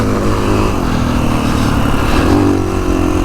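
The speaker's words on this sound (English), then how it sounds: "This bike's great for things like hair scrambles." Kawasaki KX450X dirt bike engine running steadily on a trail, a loud, close, continuous motor drone with a slight rise in revs near the end, no voices.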